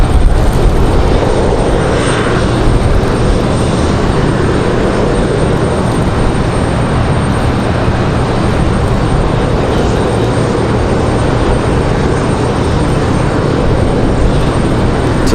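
An Airbus A319 airliner taxis at Raleigh-Durham airport, a loud steady jet engine roar holding close and constant, with no voices over it.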